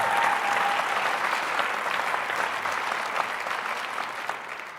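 Audience applause at a governor's State of the Commonwealth address, a dense sustained clapping that stays loud and steady throughout, slowly fading slightly toward the end with no voices over it.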